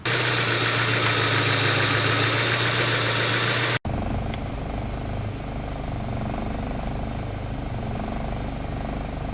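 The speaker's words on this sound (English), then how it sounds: "I've got the car idling, it's fully warmed up" A fully warmed-up car engine idles steadily with a low, constant rumble and vibration, briefly cutting out before continuing at a slightly rougher, quieter level.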